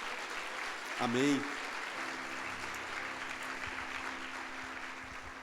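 Church congregation applause during a Sunday service, a continuous soft spread of clapping from the room after a single spoken word at the start.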